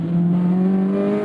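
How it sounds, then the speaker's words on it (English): A Honda K20 Type R engine swapped into a Mini Cooper revs loudly and close by, a strong steady tone rising slightly in pitch over about a second. "Oh, you can tell this is a proper Type R engine."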